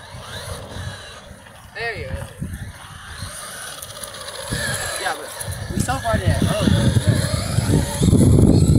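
Traxxas Maxx RC car pulling away from a standstill, its electric motor whine rising and growing louder toward the end over outdoor rumble, with a voice speaking partway through.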